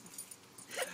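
A dog whimpering during a bath, faint soft whines that build into a brief higher yelp near the end, with no clear talk over them.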